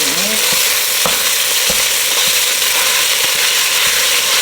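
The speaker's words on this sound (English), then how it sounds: "toss in our ground beef and kind of just brown this up" Steady, loud sizzling of ground beef browning in a hot pan, with occasional scraping clicks from a utensil and no talking.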